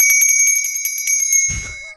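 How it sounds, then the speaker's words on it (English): A bright metallic bell, like a bicycle bell, rings rapidly in a quick rattling trill for about one and a half seconds, then stops with a short low thump. It sounds close and clear, with no voices. "I'm going to ring the bell, and then we're going to get into spoilers"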